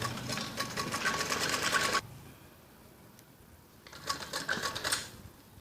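A sewing machine stitches piping along the neckline of a child's top in two loud, rapid bursts of mechanical whirring separated by a quiet pause of about two seconds.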